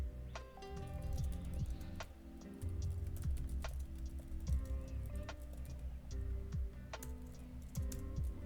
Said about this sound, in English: And I'm going to type